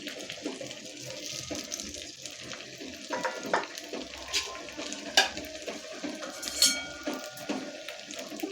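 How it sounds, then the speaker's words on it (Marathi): Cut potatoes tumble into spices frying in a pan for Maharashtrian potato curry, giving a soft, steady sizzle with scattered stirring scrapes and light clinks of utensil on metal, close and fairly quiet, no talking. "मसाले परतले की हे कट केलेले बटाटे आहेत ते ॲड करायचे आहेत"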